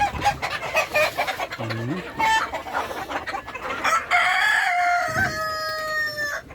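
Sonali-breed parent chickens on a farm cluck and crow in a busy overlapping flock, with several clear crows rising over steady clucking, fairly close and loud.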